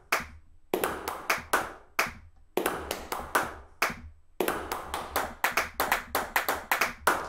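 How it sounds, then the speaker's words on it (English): Sampled claps from the Clap Machine VST plugin, crisp dry hand-clap hits played alone in quick bursts and rhythmic runs separated by short silences, loud and close. "So, all it is a bunch of claps. They're mapped out to your keyboard, and so you can choose various clap sounds"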